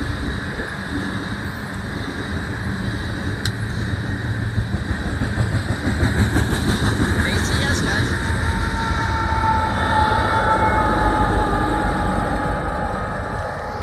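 A loaded Union Pacific coal train, locomotive 9005 with a KCS distributed power unit, rolls past on the southbound track, a loud steady rumble of wagons and wheels with wind buffeting the microphone throughout.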